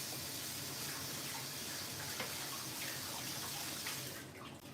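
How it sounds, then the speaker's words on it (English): Tap water runs steadily into a sink while pork chops are rinsed in the kitchen, a constant hissing splash that thins out near the end, with no talking. "I'm going to dump all of these out and just run them through the water"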